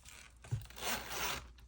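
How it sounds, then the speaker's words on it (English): A zipper slides open on a leather pen case: a short, smooth rasp of about a second, close and quiet, heard with no talking. "The zipper feels really nice and smooth."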